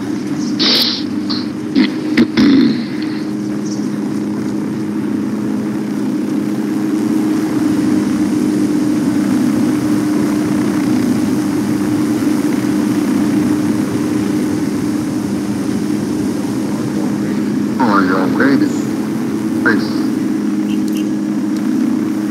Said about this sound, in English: Got a helicopter over here.